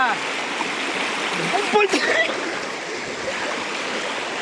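Water flowing in a small village stream, a steady broadband rush that holds constant throughout, with a brief louder splash or disturbance in the middle.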